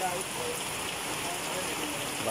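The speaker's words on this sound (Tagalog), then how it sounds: "Lakas pa din ang ulan po mga Kalingap." Heavy rain pours outdoors as a loud, dense, unbroken hiss of drops on surfaces, steady and close throughout.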